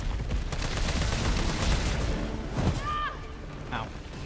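Gunshots and booms in the Resident Evil 3 video game rumble through a dense burst of gameplay noise, fairly quiet overall, with a voice talking over it and a few short electronic tones near the end.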